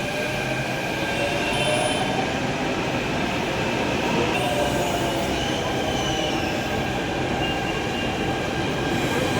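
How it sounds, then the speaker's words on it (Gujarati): A Delhi metro train pulls into a station, its wheels squealing in long high tones over a constant loud rumble of rolling carriages, with no voices. "ટ્રેન આવી ગઈ"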